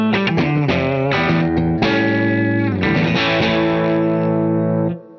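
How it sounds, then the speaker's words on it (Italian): An electric guitar on a clean amplifier channel with a slight crunch of breakup, playing sustained chords and notes that ring loudly and steadily before cutting off at the end, with no voice. "comunque un suono pulito, sentiamo già che un po' di crancettino salta fuori"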